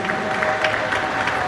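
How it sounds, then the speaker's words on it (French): A church congregation applauds in a continuous, fairly loud patter of clapping that fills the whole moment, with faint voices mixed in. "nous allons applaudir ces grands hommes par lesquels Dieu passe pour réaliser des grandes choses"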